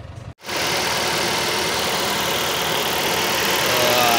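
A Toyota Vios engine with a misfire idles steadily after starting, close and fairly loud, with a slightly uneven, rough running note throughout.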